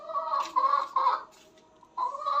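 A laying hen clucks in a few short harmonic bursts with pauses between them, close and fairly loud.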